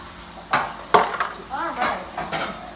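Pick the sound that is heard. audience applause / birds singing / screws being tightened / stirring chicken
stirring chicken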